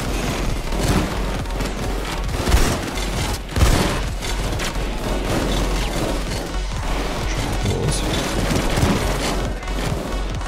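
Gunfire from a weapon in the video game PayDay 2 set to semi-automatic, loud, dense bursts of shots and crashes running through the whole stretch with a couple of heavier booms.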